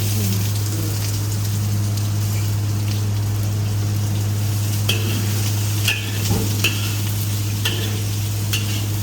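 Fried rice frying in a pan with garlic, cooked without oil: a loud, constant sizzle with scraping and stirring clicks over a steady low hum.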